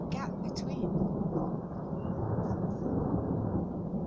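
A heavy thunderstorm over Gainsborough, with deep, continuous rolling thunder that never lets up, loud and close, plus a few brief higher crackles early on.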